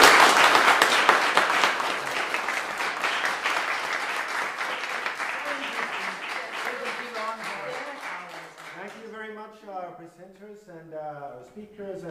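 Audience applause at the close of a cultural heritage seminar on non-formal music education, a long, loud, dense round of clapping that gradually thins out as a voice begins speaking at the end.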